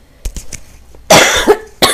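A few short, sharp coughs up close, a couple of light ones followed by a harder burst and another cough at the end.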